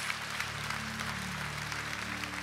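A church congregation at a Ukrainian Protestant service applauds after a prayer, a steady wash of many hands clapping over a faint sustained organ-like drone.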